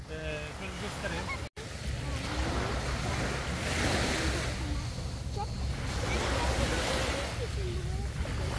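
Open-sea surf on a long beach at Kumlubük near Marmaris, a steady wash of breaking waves mixed with wind buffeting the microphone, loud and continuous, with voices talking in the background.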